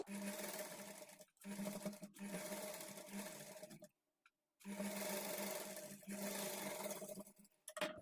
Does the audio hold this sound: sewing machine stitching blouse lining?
yes